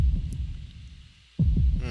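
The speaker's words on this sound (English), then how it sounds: "You still hear that heartbeat in the background." A low, throbbing heartbeat pulses repeatedly in the background of The Legend of Dragoon, a muffled, rhythmic thumping under ambient hum, dropping out briefly before returning.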